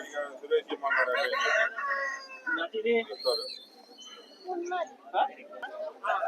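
Chickens and roosters at a poultry market in Vijayawada crow and cluck nearby, with overlapping bursts of calls and crowd chatter in the background.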